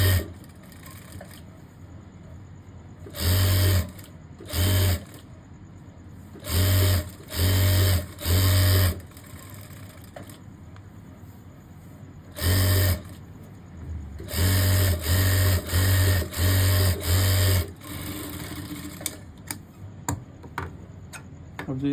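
A sewing machine stitches fabric for a boy's cord set in repeated short loud bursts of rapid mechanical chatter, with quiet pauses and small clicks between runs, close by.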